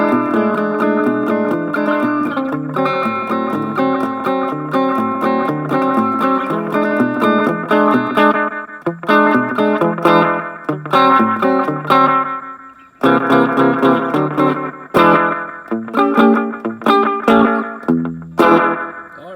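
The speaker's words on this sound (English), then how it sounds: "So it's flashback, slapback reverb." An electric guitar plays chords and single notes through a TC Electronic Bucket Brigade slapback echo pedal, a short, quick echo that doubles each attack, with a bright, twangy tone.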